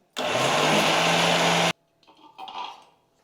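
A kitchen mixer grinder blitzes dried drumstick leaves into powder, a loud steady whirring burst of about a second and a half that cuts off abruptly, followed by faint rattling and handling noises.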